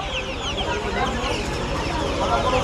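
Dense clucking and cheeping from a crowd of chickens, including small Australorp chicks, fills a busy hen market, with a steady din of voices and bird calls throughout.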